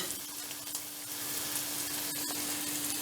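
Butter sizzling steadily in a pan among sautéed vegetables for a mushroom and vegetable omelette, a continuous crackling hiss with a faint steady hum beneath and no talking.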